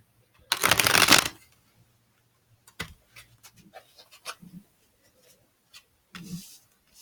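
A tarot card deck is shuffled in one loud, dense riffling burst near the start, followed by quieter scattered card handling and soft taps.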